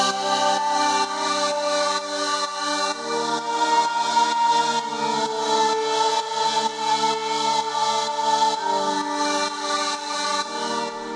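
Layered synthesizer pads hold dense sustained chords, with a soft rhythmic pulsing texture throughout, shifting harmony midway, steady and even in volume.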